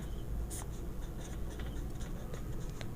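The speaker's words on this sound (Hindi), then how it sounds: "तो लिखेंगे यूक्लिड" Pen scratching out Euclid's division lemma by hand during a class 10 maths lesson, a steady run of soft, close writing strokes with faint background hiss and no talking.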